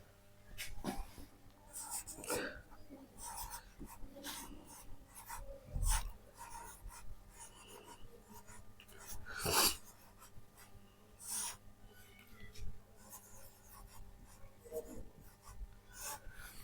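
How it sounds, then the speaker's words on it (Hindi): A pen writing on paper during a handwritten explanation, with scratchy strokes and irregular taps and pauses, close up and without talk. "तो 2 नंबर पे हम लोग लिख लेते हैं गैर मजरूआ खास।"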